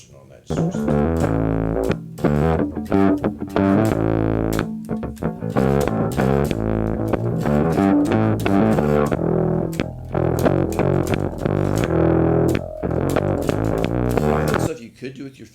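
Bass guitar picked through a distortion effect, with thick, gritty sustained notes and frequent sharp pick attacks in a steady, busy rhythm, played loud and close for about fifteen seconds.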